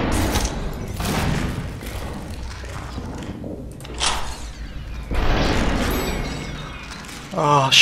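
Gunfire from enemies in the video game Superhot, bursts of shots and thumps recurring through the clip alongside a player's frustrated talk.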